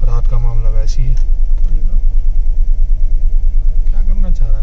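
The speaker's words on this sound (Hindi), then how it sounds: "बर्फ है यार उसकी नहीं निकल रही" A car stuck in snow on a night road to Tungnath strains with a continuous low engine drone, and people talk briefly over it.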